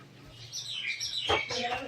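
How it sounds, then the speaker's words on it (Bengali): A bird chirps in short, thin, repeated tweets close by during a home lesson, with a person's voice partly overlapping the calls. "এ পাখি, টিম টিম করতেছস কা?"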